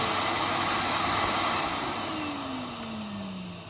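A hot tub's bubble air blower runs with a loud, steady whooshing roar, then winds down as its motor pitch drops and the sound fades over a couple of seconds.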